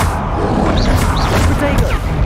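A Confringo fire spell blast in the Hogwarts Legacy video game: a loud, dense burst of roaring, crackling energy with quick whooshing swells, sustained throughout the short moment.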